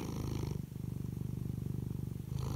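A cat purrs close up during snuggles, a soft rhythmic rumble pulsing with each breath, steady and uninterrupted.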